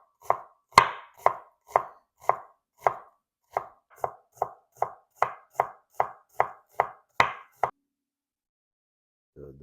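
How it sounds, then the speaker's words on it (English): Onion being chopped as finely as possible with a knife on a board, about sixteen crisp, evenly spaced chops at a steady rhythm, close and clear, ending in silence. "With onion, what I really like to make it as fine as possible, very as thin as I can"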